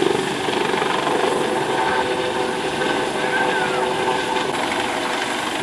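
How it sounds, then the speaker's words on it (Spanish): A Panther helicopter hovers during a Mexican Navy amphibious water rescue demonstration at a beach, its steady, loud rotor and engine roar continuous throughout with faint voices underneath. "El segundo rescate acuático fue con un helicóptero tipo Panther, el cual llamó más la atención de los presentes."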